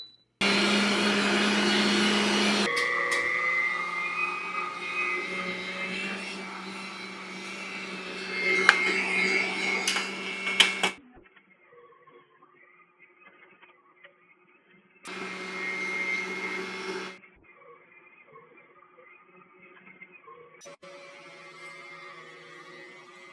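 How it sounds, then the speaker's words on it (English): An electric meat grinder set for sausage runs on pork loin, a loud, steady motor whine that goes for about ten seconds, stops, then starts again for a shorter burst before falling quiet. "let's grind up some pork"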